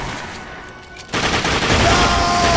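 Rapid burst of gunfire from The Darkness II video game, loud and dense, breaking out after a second of quieter ambience and continuing as a sustained volley to the end.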